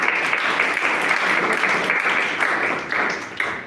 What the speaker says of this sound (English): give a round of applause for our speakers, our role players, and our ops role players